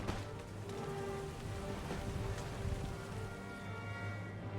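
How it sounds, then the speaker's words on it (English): Rain falls in the Total War: Empire battle, a steady dense patter heard alone, with a low drone running beneath it. "Yeah, it's the rain."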